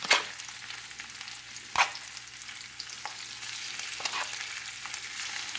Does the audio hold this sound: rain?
no